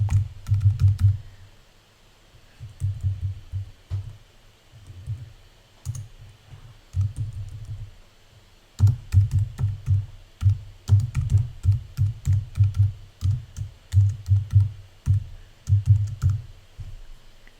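Rapid clicking keystrokes on a computer keyboard come in bursts of typing separated by short pauses, close and clear with no talking, as a parameter name is entered.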